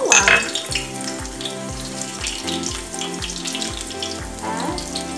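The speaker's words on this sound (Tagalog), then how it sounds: "Mainit na po yung ating mantika. Maglalagay tayo ng bawang." Garlic frying in hot oil in a pan before salmon goes in: a steady, loud crackling sizzle throughout, with a low musical tone running underneath and no voices.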